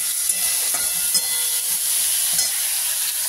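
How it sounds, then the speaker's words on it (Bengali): Eggplant frying lightly in a pan alongside potato and cauliflower, giving a steady soft sizzle with a few light stirring scrapes and no voices. "বেগুনগুলো দিয়ে দিচ্ছি। বেগুনগুলো বেশি ভাজবো না, হালকা একটু ভাজবো বেগুনটাকে।"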